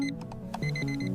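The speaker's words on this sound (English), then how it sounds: "I turn off my alarm." A bedside alarm clock rings with a steady electronic tone, its bright repeating pitches sounding loud and close, alone and without any voices.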